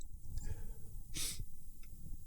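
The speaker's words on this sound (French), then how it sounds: "Je sens que je vais éternuer." A single short, sharp sneeze bursts out mid-clip amid quiet breathing and faint room noise.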